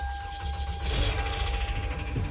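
A car engine at an insurance auto auction cranks and catches, settling into a steady, rough, loud running rumble close by with no talking.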